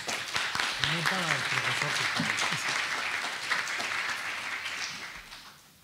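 An audience at an academic colloquium applauds loudly and steadily, with a voice speaking over the opening seconds before the clapping fades out.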